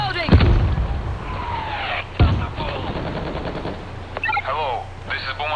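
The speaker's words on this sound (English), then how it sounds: "We're hearing gunfire from the river." Loud bursts of gunfire crack out in short volleys amid battle noise in the video game World War Z, Moscow level, with voices talking over the shooting.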